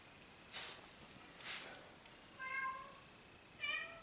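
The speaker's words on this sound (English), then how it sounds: "here comes the studio cat. She's making herself known." A cat meows several times in an art studio, two or three close, distinct calls spaced apart, with soft rustling bursts between them and no talking.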